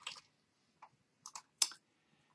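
Computer keyboard keys are pressed in a few sparse, quiet clicks, single taps separated by pauses, heard close in an otherwise silent room.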